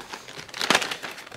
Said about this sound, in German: dann nehmen wir wieder eine kleine Tüte und tüten das wieder ein.